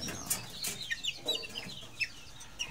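Chickens cluck in coops on a small farm, giving scattered short clucks and squawks at close to moderate distance over a steady background hum.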